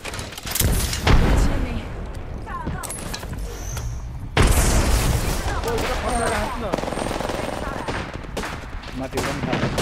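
Gunfire and explosions in the Apex Legends video game follow a thrown frag grenade, with bursts of automatic fire and a heavy blast around the midpoint that is followed by sustained rumbling battle noise, while players talk over it.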